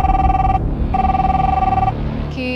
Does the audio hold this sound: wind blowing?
no